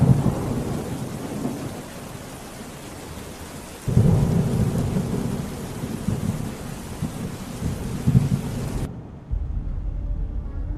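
Cartoon rain and rolling thunder, a steady loud wash of rainfall with deep rumbles swelling at about four and eight seconds, cutting to near silence near the end.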